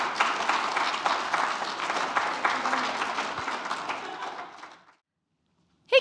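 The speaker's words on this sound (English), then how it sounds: "Can we get a round of applause?" A congregation at a Sunday church service gives a sustained round of applause that lasts about five seconds, then fades and stops, leaving silence before a brief voice at the end.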